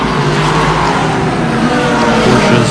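Race car engines on the Ryula Circuit in an endurance sportscar race, roaring steadily and loudly as the cars pass through a tight hairpin, one continuous close engine drone with no break.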